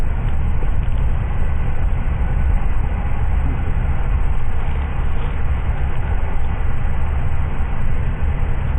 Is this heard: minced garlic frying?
no